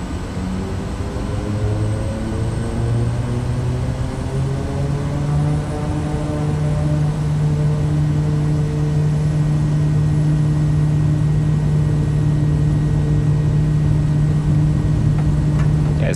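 An aircraft engine in Microsoft Flight Simulator 2020 drones loud and steady during takeoff, its propeller hum rising in pitch as power builds over a continuous roar.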